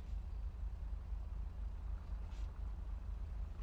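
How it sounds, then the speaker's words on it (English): Ambient traffic in the video game GTA V: a continuous low rumble of passing trucks and cars with a faint airy wash above it, steady and fairly quiet, with no talk. "There's the traffic and all those ambient sounds."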